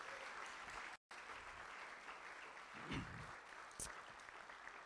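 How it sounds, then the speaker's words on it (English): A concert audience claps steadily and evenly, a dense continuous patter heard from a distance and fairly faint, with a brief dropout partway through. "Let's give him another round of applause, shall we?"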